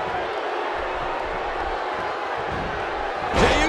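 An arena crowd roars in the WWE 2K16 wrestling video game, a constant dense wash of cheering under the commentary, swelling briefly with a sharp impact near the end.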